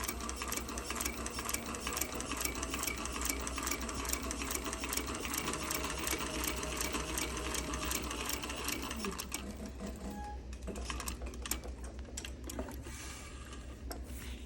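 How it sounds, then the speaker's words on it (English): A Cobra Class 26 sewing machine stitches piping with a continuous close, loud mechanical whir and motor hum, its rapid needle rhythm steady throughout and easing slightly near the end. "Now, I would just sew this on."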